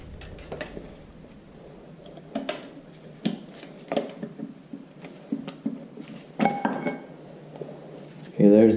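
A putty knife prying at a part on an IHC Farmall Super MTA tractor engine, making a string of sharp metallic clicks and scrapes spaced irregularly at close range, ending in a louder clatter.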